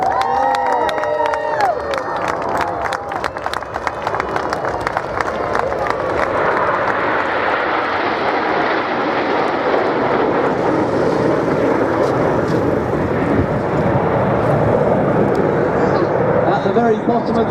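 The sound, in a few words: nine aerobatic display jets flying at Biggin Hill Airshow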